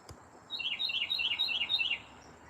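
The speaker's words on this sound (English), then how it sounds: "Oh, listen to that pretty bird, whatever it was." A bird whistles a quick series of about six rising-falling notes, clear and fairly close, over a low background hum.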